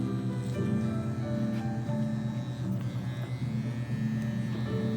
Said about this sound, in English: Then I'm gonna close the clipper to take out the first line.